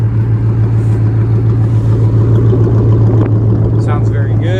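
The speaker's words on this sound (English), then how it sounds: "I will also go around to the exhaust so you can hear it." A 2010 Ford F-150 SVT Raptor sits idling, its exhaust giving a steady, loud low rumble that holds even throughout, with a voice talking over it near the end.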